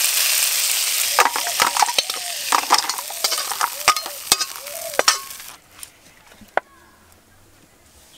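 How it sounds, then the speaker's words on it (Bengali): Crab roe and shell frying in hot oil over a village fire, a steady loud sizzle broken by repeated sharp scraping stirs of a spatula, then the frying drops away to a quieter hiss with a few clinks. "কাঁকড়ার যে ঘি আছে ঘিটাও আমি ভেজে নেব,"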